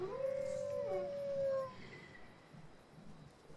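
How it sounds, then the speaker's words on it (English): A single long, sustained wolf howl from a pack in a video game, fairly close and clear, fading after about a second and a half into quiet ambient noise. "Holy crap, there's a lot of wolves in there."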